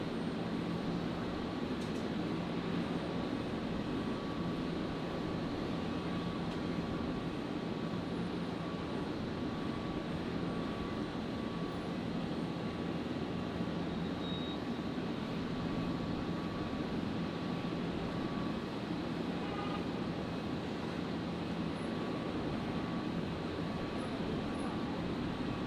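A Qatar airliner departs Brisbane Airport at night, a steady, even jet roar holding at constant loudness from start to finish, somewhat distant, with no talk.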